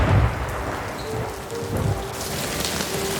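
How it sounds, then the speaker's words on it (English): Heavy pelting of hail and rain on a town, a dense steady patter with low rumbling thunder-like bursts underneath, no voices. "That night, a hailstorm struck the town."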